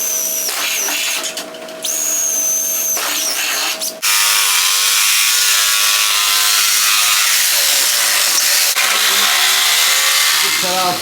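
A power tool cuts speaker openings into a custom panel for an OBS Chevy truck, loud close whining and rasping cuts that stop and restart several times.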